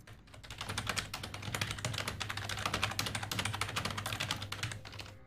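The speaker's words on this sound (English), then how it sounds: "Furious typing noises." Rapid, continuous clatter of keys on a computer keyboard, dense and steady for several seconds with no pauses, fairly quiet and close.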